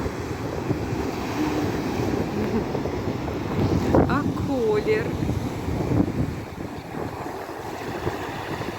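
Sea waves and wind at a beach in Odesa on the Black Sea, a steady surf rush with gusty wind noise, as someone speaks briefly in the middle.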